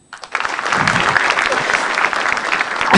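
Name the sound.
audience applause at stand-up comedy show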